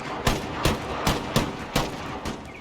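A Puckle gun firing in Empire Total War, six evenly spaced heavy shots roughly every half second, each a sharp crack with a short boom, over a low battlefield hum.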